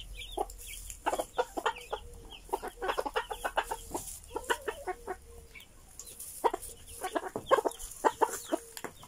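Silkie hen and chickens clucking in a series of short, close, irregular bursts, with brief pauses between clusters and no talking.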